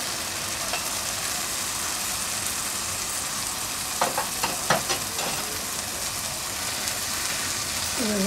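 Cooked masoor lentils being mixed into a sautéed masala in a pan, a soft continuous sizzle with a few brief spoon scrapes and taps in the middle, fairly quiet and close.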